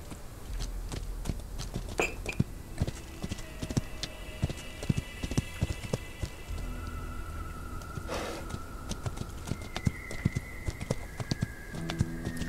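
A pony's hooves clip-clop in an uneven walking rhythm, close and distinct, with occasional brief whinny-like calls and other outdoor sounds mixed in.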